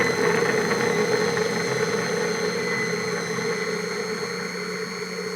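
A Robot-Coupe food processor whirs steadily as it chops vegetables, a close, even motor hum with a high whine that eases slightly toward the end, no talk.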